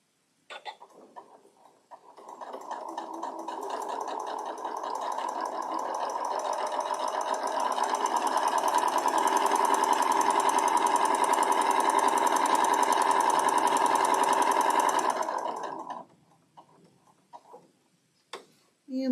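A sewing machine stitches a pink quilt block in a long steady run, a fast even whirring with ticking that builds up and holds for about fourteen seconds, then stops, with small clicks and handling noises after.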